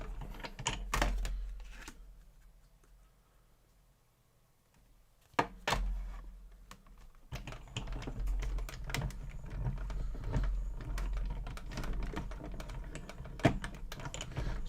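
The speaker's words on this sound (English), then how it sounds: "I'm going to go and cut that through my machine" Card stock with adhesive is fed through a cutting machine, giving close, irregular clicks and clunks that pause briefly and then return in a busier rattling run. No one speaks.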